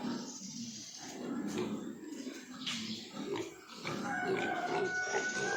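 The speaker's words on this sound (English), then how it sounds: "The little pigs are fed." Young farm pigs grunt and snuffle at feeding time, a steady close chorus of low grunts and rustling, with no talking over it.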